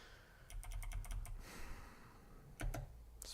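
Quick runs of clicking taps come from a BBC Micro keyboard during a 1988 game, a rapid burst followed by a pause and a couple more presses, up close with no voices.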